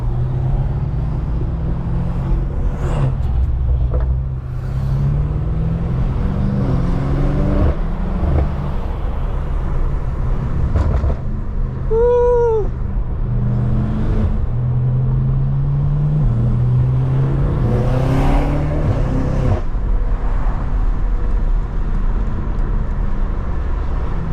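A BMW F90 M5 with catless downpipes and front-mount intakes drives along, its engine droning in a steady low rumble from inside the cabin with swelling revs and a brief tonal whine midway, continuous and fairly loud throughout.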